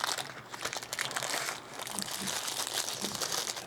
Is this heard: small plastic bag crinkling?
yes